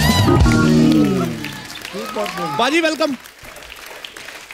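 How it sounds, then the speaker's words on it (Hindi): A studio audience at The Kapil Sharma Show comedy talk show claps in a loud burst at the start, then the applause fades as a voice takes over. "एक बार जोरदार ताली अक्षय बाजी के लिए."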